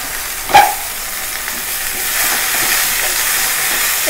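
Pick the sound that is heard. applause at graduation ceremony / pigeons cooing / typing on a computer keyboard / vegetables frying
vegetables frying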